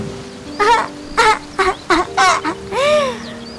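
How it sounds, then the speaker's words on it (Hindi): A cartoon baby bird cries from hunger during a heavy rainstorm with thunder, letting out about six loud, wailing cries in quick succession, each rising and falling in pitch, the last one long and drawn out. "टूनी चिड़िया का बच्चा भूख के मारे जोरों से रोने लगा।"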